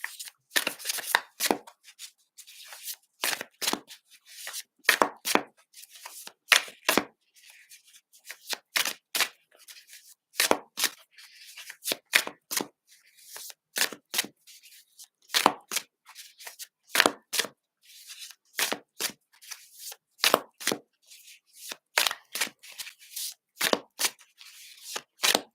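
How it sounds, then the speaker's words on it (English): A tarot card deck is shuffled repeatedly by hand, making crisp riffling bursts in an irregular rhythm with short quiet gaps between them, close and clear with no talking. "I'm just going to keep shuffling"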